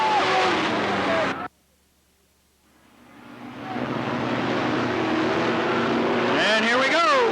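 Race cars roar around the Cottage Grove Speedway oval during a 1991 race, with loud engine noise that cuts out abruptly, then swells back as cars approach and pass with rising engine whine.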